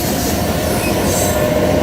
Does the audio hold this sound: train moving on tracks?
yes